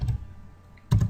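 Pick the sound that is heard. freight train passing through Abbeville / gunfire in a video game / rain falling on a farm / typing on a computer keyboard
typing on a computer keyboard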